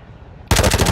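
Video game gunfire erupts halfway through after near silence: a loud, close burst of rapid automatic shots that hammers on steadily to the end.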